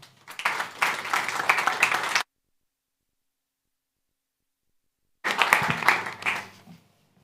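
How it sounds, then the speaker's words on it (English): Audience applause for an angel investor introduced to give the first pitch at a startup event, two bursts of broad, steady clapping about two seconds each, split by a few seconds of silence. "A round of applause for him."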